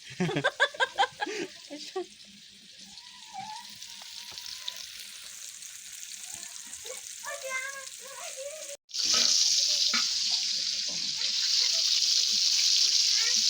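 Chicken leg pieces fry in hot oil, with a sharp sizzle that swells into a loud, steady crackle after a brief gap, while people talk and a faucet runs at the start.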